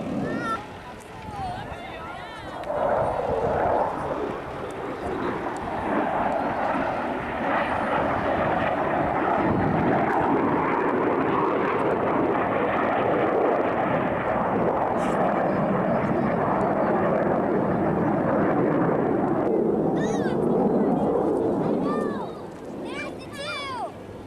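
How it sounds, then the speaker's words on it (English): Air show jet aircraft flying inverted overhead, a loud sustained engine roar that rises and holds for most of the clip with crowd chatter and voices underneath. "this time to demonstrate inverted flight capabilities of these FAs"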